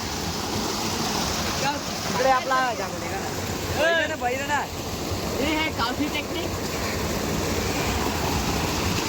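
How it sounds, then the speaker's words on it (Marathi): Loud, steady rushing water roars throughout on a fishing boat at sea off Mumbai, while someone speaks over it in short bursts. "जोरदार असं पाणी जात आहे इकडून जोरदार असं पाणी जात आहे"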